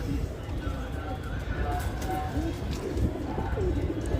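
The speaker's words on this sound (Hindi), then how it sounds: "फाइनली कबूतर जो है मैंने पकड़ लिया है" A white-eyed pigeon held in the hand gives soft, low cooing calls close by, heard under someone talking, with light rustling around it.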